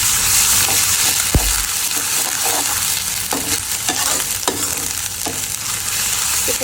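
Loud close sizzling of ginger, garlic and turmeric powder frying in a pan, a constant hiss broken by sharp stirring clicks and scrapes of a utensil, no talking.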